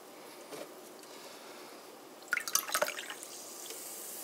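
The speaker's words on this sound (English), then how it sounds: "open up this can of Pepsi, pour it halfway into a glass" Pepsi is poured from a can into a glass, giving a short splashing, fizzy burst with scattered drips after a quiet start, near and fairly soft.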